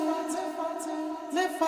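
A sampled vocal loop from a sample pack at its original pitch holds steady sung tones with soft breathy accents at regular intervals and a fresh phrase entering near the end, close and continuous without speech.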